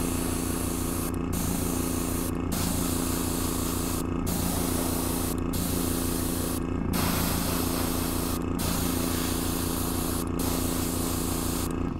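A steady, close hiss of spray paint on a model diorama, cut by several brief pauses as the nozzle is released and pressed again, over a low mechanical hum.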